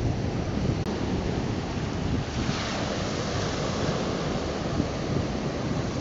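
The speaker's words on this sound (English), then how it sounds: "these waves do kind of seem bigger than the ones back home" Ocean waves roll and surge onto a beach on the Kenai coast in a continuous loud wash, with wind rumbling across the microphone throughout.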